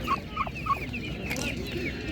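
Black turkeys at a village market gobble in a quick series of three rattling calls, close by, with softer bird calls and faint market murmur behind.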